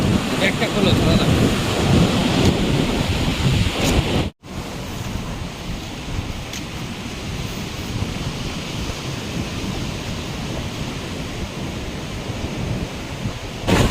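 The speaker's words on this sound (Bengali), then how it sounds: "জলের ঢেউটা সেই লাগে দেখতে।" Sea waves breaking on the beach at Digha roar loudly and continuously, a broad wash of surf with wind rumble, heard close and alone apart from a brief cut early on.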